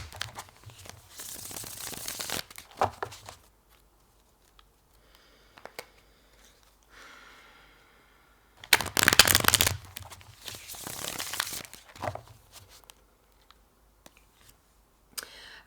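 Tarot deck being shuffled in bursts of riffling and flicking card noise, with quiet pauses and small taps between shuffles.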